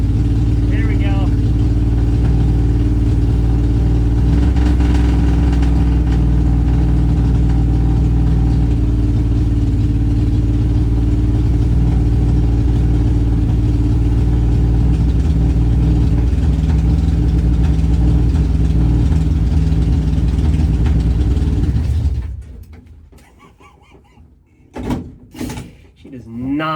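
A 1968 Ford Mustang V8 idles loudly and steadily up close just after a barely warmed-up start, a rough low rumble that runs for over twenty seconds before cutting off abruptly, leaving a few faint knocks.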